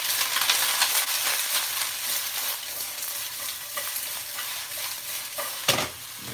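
Curry ingredients sizzle and fry in a hot pan for a curry made with store-bought roux. A dense, loud, continuous hiss with crackling bursts and a brief sharp clatter near the end.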